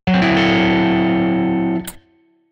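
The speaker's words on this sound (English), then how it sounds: "1, 2, 3, 4, and play a minor 7 flat 5." Single minor 7 flat 5 chord strummed once on an electric guitar with a slightly driven, effected tone, ringing for under two seconds before it is muted with a brief scratch.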